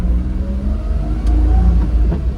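A 1996 car accelerating through its gears, engine rumbling loud and close with a short dip at the shift before it pulls again.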